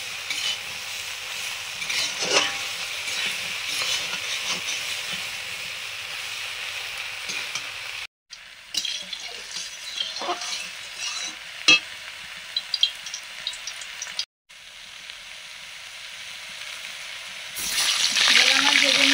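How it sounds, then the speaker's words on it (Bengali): Bhola fish frying in a pan, a continuous hissing sizzle with scattered pops and utensil clicks, broken by two brief cuts and swelling louder near the end. "ভোলা মাছ ভেজে নিচ্ছি"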